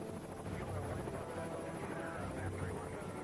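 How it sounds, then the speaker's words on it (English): Helicopters flying over Washington, including the presidential Marine One, give a steady distant rotor drone and hum that stays even throughout without speech. "In the sky above Washington, 2 identical helicopters join the president's white top in an aerial dance of deception."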